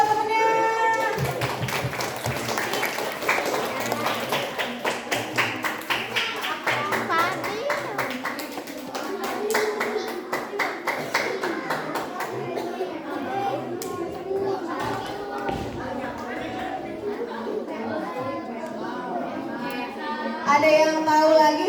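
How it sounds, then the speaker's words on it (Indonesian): Elementary school children at a bullying-awareness seminar clap together for a classmate, a fast, rhythmic, close burst of hand claps that runs on for a long stretch, with children's voices and chatter mixed through it. "Ayo tepuk tangan dong buat temennya."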